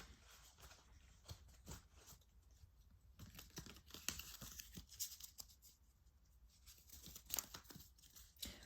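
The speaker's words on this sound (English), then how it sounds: "Just going to shuffle the cards" Close, soft riffling and slapping of tarot cards being shuffled, repeated quick flutters with small taps in between.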